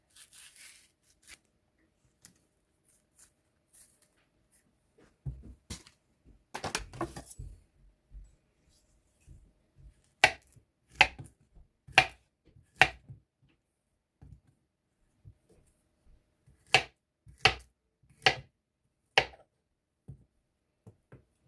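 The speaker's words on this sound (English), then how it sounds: "First, we're going to prep my banana. I'm going to peel it and cut it into chunks." A knife cuts a peeled banana into chunks on a board, giving a series of crisp, separate taps with short pauses between them, close and fairly quiet.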